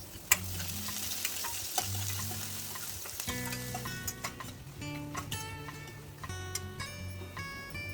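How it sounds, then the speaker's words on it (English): Finely chopped ginger fries in a pan, a steady close sizzle running throughout with occasional stirring clicks and taps on top, no voices. "Add finely chopped ginger, which is about 1 inch, and fry until it is golden color."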